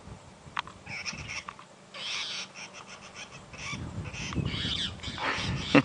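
Magpie shrike calling from a treetop at a sunrise safari in the African bush, giving repeated harsh, ringing calls in uneven bursts at moderate distance over soft background rustle.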